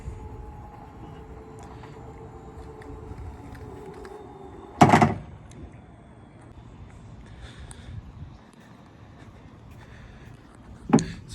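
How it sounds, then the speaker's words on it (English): A 2017 Chrysler Pacifica wheelchair van with a VMI Northstar conversion: a loud clunk as the sliding door releases, then a quiet mechanical hum as the van kneels and the ramp deploys, ending in a second sharp thunk. "Door will open up, car will kneel down, and ramp will deploy out."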